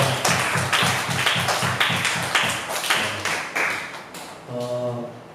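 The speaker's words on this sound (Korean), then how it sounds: "격려의 박수 하도록 하겠습니다" Congregation at a Sunday youth church service clapping in encouragement, a steady run of sharp, close claps filling the room, fading as a sustained musical tone enters near the end.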